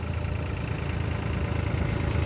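Tractors running along a flood embankment in Punjab, their steady low engine drone continuous and fairly close, with no talking.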